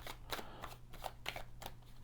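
A Nouveau Tarot de Marseille deck is shuffled overhand, giving quick, soft papery slaps in a loose rhythm of short bursts, close and quiet.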